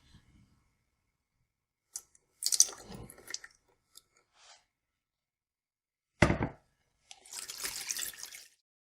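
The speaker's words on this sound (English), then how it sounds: "I want the potato water from the bottom first" Potato water poured from a container while mixing sourdough dough, heard as a few short, close splashy pours and trickles separated by silence, with small handling clatters between them.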